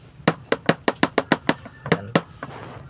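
A mutya stone charm being tapped, giving a run of about ten sharp, bright, coin-like clinks close by in quick rhythm, followed by two more and a faint tail, with no speech.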